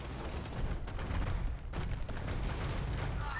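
Bombard cannons fire in Age of Empires 2, a dense volley of overlapping gunpowder booms and impacts rumbling continuously at moderate distance, fairly faint, with no talk.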